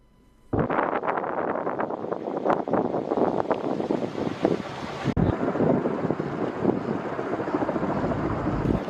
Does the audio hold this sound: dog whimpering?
no